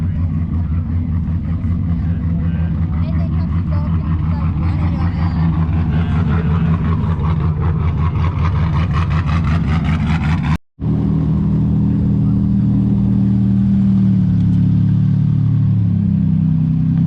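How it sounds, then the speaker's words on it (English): Cars rumble and rev around the start area of the Finke Desert Rally, a steady loud mix of engine drone and crowd bustle, with voices mingled in and a brief dropout near the end. "Cars around behind me"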